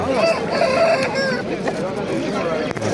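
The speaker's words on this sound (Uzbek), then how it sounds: "Xo'roz tonni qarang." A rooster crows nearby amid a noisy crowd at a livestock bazaar in Namangan, Uzbekistan, with other fowl clucking and people talking in the background.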